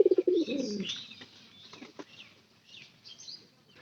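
A lame pigeon pulling straw gives a burst of loud, close wingbeats and a low coo at the start, then fainter rustling, soft flutters and scattered light chirps.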